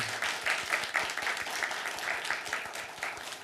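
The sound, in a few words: congregation applause of encouragement in church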